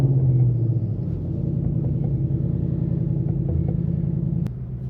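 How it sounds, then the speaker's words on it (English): A 2024 Ford Mustang sits after a cold start, its engine giving a deep steady idle rumble that is loudest in the first half second and then settles into an even drone, close by with no talking. "let's go ahead and get a cold start"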